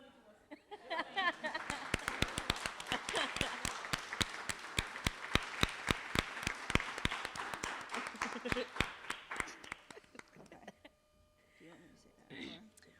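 An audience at a 15th anniversary kickoff ceremony claps and applauds steadily, with dense, sharp hand claps from many people. The applause holds for about ten seconds, then fades, followed by a faint sound at the end.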